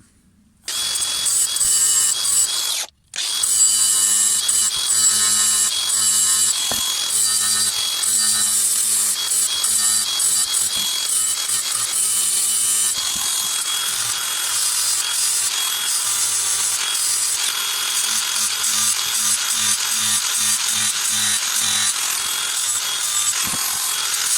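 A brush cutter blade is hand-sharpened with a file, giving continuous loud rasping strokes in a steady back-and-forth rhythm, with one brief pause early on before the scraping resumes and carries on.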